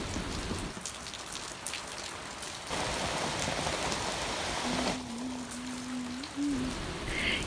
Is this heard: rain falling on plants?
yes